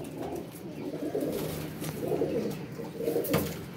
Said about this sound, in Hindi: फिरोजपुरी कबूतर है